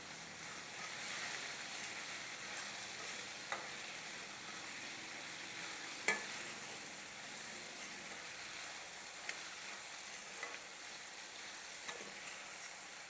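Four dried red chillies sizzle in hot oil for mango pulihora, a steady, dense frying hiss with a few small pops and clicks standing out, close and even throughout.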